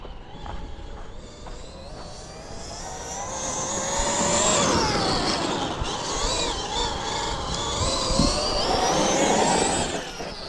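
A Traxxas XRT RC truck with GPM aluminium outdrives and differential cases drives outdoors, its electric motor whining and rising and falling in pitch as it accelerates, loud and continuous with tyre noise beneath.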